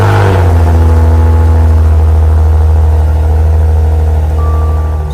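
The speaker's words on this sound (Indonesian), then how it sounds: "suara dari Maserati ini memang sudah sangat eksotis dengan mesin V6" Maserati Ghibli S with a V6 engine after a cold start, a loud, deep, steady idle rumble sitting close and unchanging throughout.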